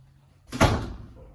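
A pantry door in a 2020 Keystone Avalanche 320RS fifth-wheel RV swings open with a single soft thump and brief rattle, close and fairly loud, then fades quickly.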